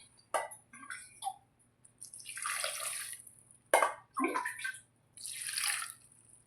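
Water poured into a pressure cooker over washed amaranth leaves, in several separate splashing bursts of pouring and dribbling with short pauses between, close and fairly quiet.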